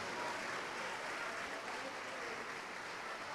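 Church congregation applauding during a sermon, a steady wash of many hands clapping together, fairly faint and diffuse, continuous for the whole stretch with no voices over it.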